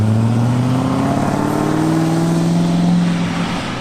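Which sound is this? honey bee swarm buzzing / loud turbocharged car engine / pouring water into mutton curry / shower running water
loud turbocharged car engine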